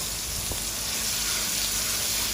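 A steady, even sizzle of blended onion, turmeric, ginger, garlic and black pepper paste frying in a pan for asam pedas, a continuous close hiss with no voices.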